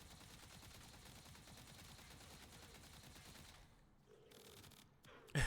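Weapon fire in the video game Warframe: a rapid, continuous stream of faint shots that thins out and briefly drops away before a short loud burst at the end.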